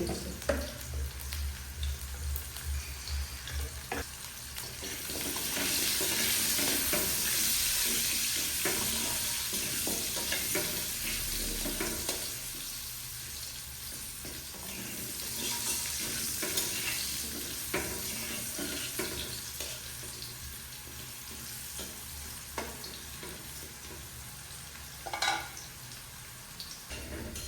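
Potatoes frying in a pan with turmeric for a vegetarian potato and pointed gourd curry, stirred steadily. A soft, continuous sizzle with scraping stir strokes runs throughout, moderately quiet and close, with no talk.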